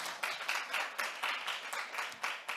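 A hall audience at a data-use competition results presentation claps for the team that just presented. The applause is faint and rhythmic, coming in regular bursts for about two and a half seconds with no voices over it.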